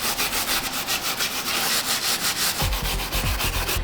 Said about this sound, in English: As I'm scrubbing these, I don't know if you all can tell, but I'm going with the grooves to get into those grooves as best as I can.